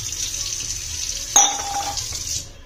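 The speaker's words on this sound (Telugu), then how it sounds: "తీసుకుని దీన్ని ఈ విమ్ లిక్విడ్లో కొంచెం వాటర్ పోసుకోండి" Water is poured into Vim dishwashing liquid on a plate in a kitchen while preparing to scrub mesh doors with a brush. A steady splashing pour is broken by a sharp clink partway through, then trails off.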